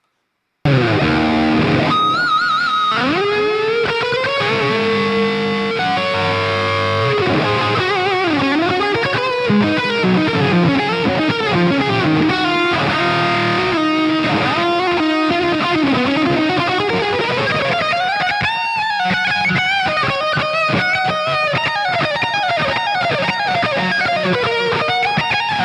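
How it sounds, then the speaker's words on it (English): Electric guitar leads played through a Boutique Tones BT PT50 pedal with heavy distortion, sustained singing notes, bends and fast runs, loud and continuous with no talking. "I will take the chance to play some nice leads and have some fun."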